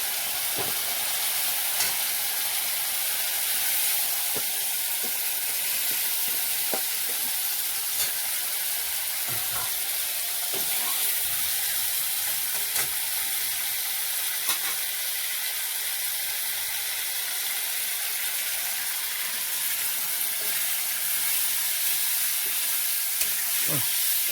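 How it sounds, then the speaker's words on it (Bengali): Soybean curry with vegetables frying in oil in a pan, a continuous dense sizzle with occasional soft stirring clinks, steady and close throughout, no voices. "সবজিটা কষছে, আরেকটু কষাবো, তেল ছেড়ে দিচ্ছি প্রায়"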